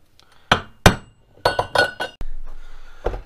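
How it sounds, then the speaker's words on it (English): Several sharp metallic taps, a center punch striking metal a few times in quick, uneven succession to mark a drill hole, with ringing clinks in between. "I'm going to take my center punch."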